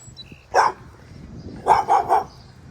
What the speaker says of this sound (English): The dog wants to kill us.